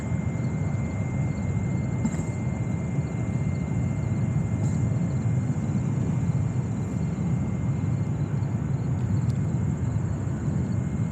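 A JetBlue Airbus A321-200 bound for Cancun taking off at JFK Airport, a loud sustained jet roar and rumble, steady for the whole stretch with a thin high whine above it.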